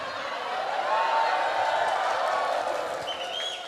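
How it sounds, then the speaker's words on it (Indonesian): An audience at a religious lecture claps and cheers, a broad steady wash of applause from a crowd holding at even loudness throughout. "Ngono ya tepuk tangan."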